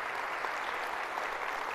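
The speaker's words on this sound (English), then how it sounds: "Let's give them a round of applause as this year's Shaping Smart Change honoree" An audience applauds honorees at a corporate presentation, a steady, even crowd clapping at moderate volume, continuous throughout.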